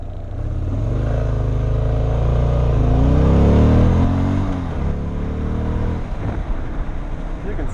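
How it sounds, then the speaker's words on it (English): A Buell motorcycle launches hard and revs up, its loud engine note rising in pitch through acceleration before easing off, close to the rider's camera. "Here's how a Buell launches."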